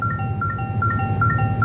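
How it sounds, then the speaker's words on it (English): Warning beeps from a 2024 Toyota Tacoma pickup truck sound as a steady, repeating chime of clear tones at a regular pace, continuous and persistent with no talk over them. "I'm going to let you guys listen to this beeping for a while so you can hear how annoying it is."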